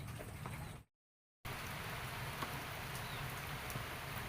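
Steady rain patters on an eggplant farm during harvest, an even hiss with faint drops, broken by a brief total silence near the start, with no voices.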